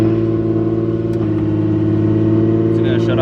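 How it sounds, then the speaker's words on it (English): Turbocharged Nissan 350Z engine idling steadily right after a cold start, a loud, even low rumble with strong harmonic drone throughout, with people talking over it. "So first cold start in like 3 days"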